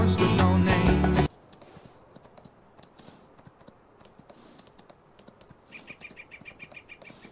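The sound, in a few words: horse trotting hooves in Farming Simulator 19 video game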